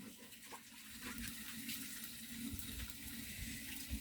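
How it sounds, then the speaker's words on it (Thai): Clean water is poured into a cooking pot to top up an Isan-style glass noodle curry, a close, steady gushing trickle that runs continuously. "เอาน้ำมาเติมนีดหน่อย เดี๋ยวจะได้น้ำเนาะ น้ำสะอาดมาเติมนะจ๊ะ"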